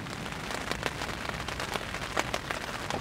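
Light night rain in Indonesia patters steadily on a surface, a dense, even drumming of close drops with occasional sharper taps, continuous and moderately quiet with no voices.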